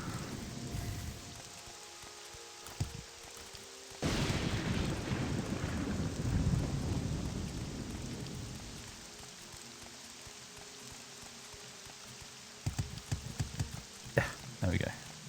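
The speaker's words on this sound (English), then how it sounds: "Oh no, it's raining." Rain and thunder in the video game Morrowind: a steady wash of rainfall with a swelling thunder rumble in the middle, and a person talking over it at times.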